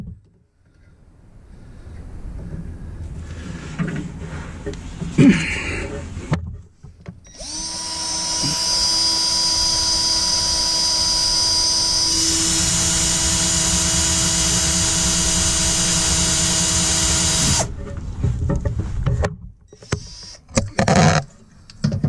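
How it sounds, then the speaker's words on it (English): A power drill bores through metal fuel and brake lines on a Jeep TJ, whining loudly and steadily for about ten seconds, its pitch shifting midway, with quieter workshop handling before and after. "so I'm gonna have to drill through them"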